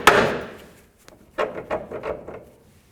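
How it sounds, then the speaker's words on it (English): Hammer blows knocking a pitman arm joint free on a 1992-2000 Chevy Tahoe: one loud ringing strike that decays, then a quick series of four or five lighter knocks, close and without talk. "Now I'm just going to give this a couple loving bonks to break it free."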